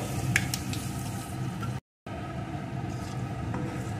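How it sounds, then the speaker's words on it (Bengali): Dry red chillies and panch phoron spices fry in hot oil with a steady, soft sizzle that carries on throughout and breaks off for a moment in the middle. "এখন ফোড়নগুলোকে একটু ভেজে নেব"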